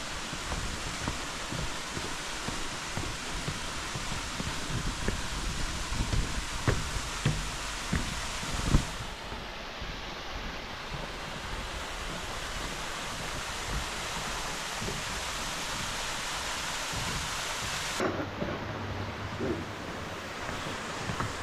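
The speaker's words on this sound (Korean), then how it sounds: "일용 폭포에 왔습니다." Rushing waterfall in Seoraksan National Park: a steady, dense roar of falling water with wind gusts, continuous and loud throughout, with no voices.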